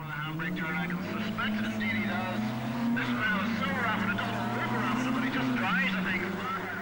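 Skoda rally car of just over 100 horsepower, running in the up to 1300cc class on the 1988 Circuit of Ireland, its engine revving steadily and shifting pitch while a commentator talks over it.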